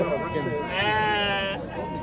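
Sheep or lambs at the Kara-Balta livestock bazaar give a single drawn-out bleat, fairly close, over a background of crowd chatter and market noise.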